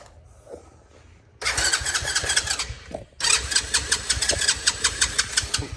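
A Tao Tao 125cc engine cranks and catches after a quiet stretch, stalls briefly, then restarts and runs with a loud, rapid, pulsing idle up close.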